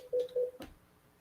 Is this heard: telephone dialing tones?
yes